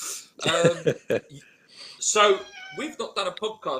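A pet cat meows loudly and repeatedly at about five in the morning, its calls overlapping with someone talking close by.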